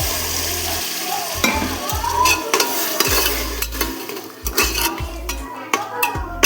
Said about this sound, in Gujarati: ચાલો તો આપણે પુલાવ માટે મસ્ત શાકભાજી વઘાર નાખ્યું છે